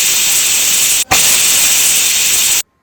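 A pressure cooker whistle lets out a loud, steady rush of steam while chicken curry cooks inside, broken by one brief gap near the middle before the hiss resumes and then cuts off abruptly.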